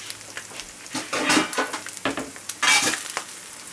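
SPAM fries in a carbon steel pan, a close crackling sizzle that swells in short bursts as the pieces are moved, with light utensil clicks in between.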